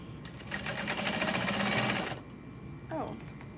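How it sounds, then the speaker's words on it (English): A sewing machine top stitches fabric for a backpack at a long stitch length, a quick steady run of stitching for about a second and a half that stops abruptly, followed by a brief voice. "I'm gonna go ahead and fold this in half and top stitch. Stitch length set to 5."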